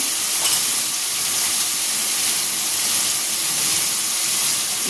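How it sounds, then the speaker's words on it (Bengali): A loud, steady sizzle fills a pan as hilsa fish curry fries with turmeric, salt and cumin. The hissing stays even throughout with no voices. "জিরে দিয়ে বেশ করে ভালো করে কষিয়ে নেব"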